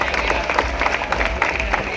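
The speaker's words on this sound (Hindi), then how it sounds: "हम तमाम तालियों की गड़गड़ाहट में मेहमानों का इस्तकबाल करते हैं" An audience at a college annual prize distribution function claps in a dense, continuous burst of applause to welcome guests, with crowd murmur mixed in.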